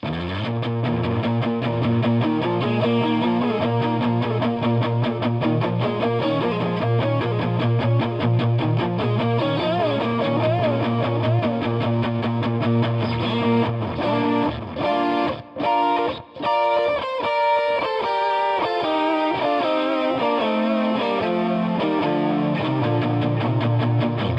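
A distorted electric guitar plays a fast, sustained solo, its notes echoing and repeating in cascading stereo delays, with a stuttering, descending run near the end.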